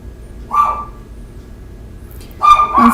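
A dog in a home kitchen barks twice in the background, a short bark early on and a louder, longer burst near the end, with quiet room tone between.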